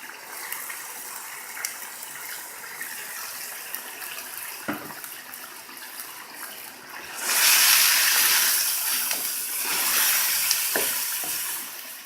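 Onion is tipped into hot oil for a chicken karahi. A soft, steady sizzle with a few stirring clinks swells into a loud, broad frying hiss partway through. The sizzle stays close and continuous, and no one speaks.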